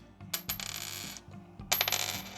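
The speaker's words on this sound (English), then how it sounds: "And when you drop the zinc, it kind of thuds." A zinc penny falls onto a hard surface twice, each drop a short dull clatter with little ring, separated by a brief pause.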